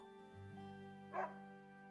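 A single short dog bark from the video game Another Code: Recollection, fairly close and clear over a steady humming music bed.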